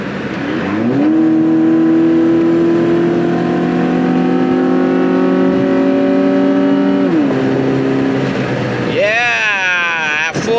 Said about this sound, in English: Yeah, at full throttle, it shifts.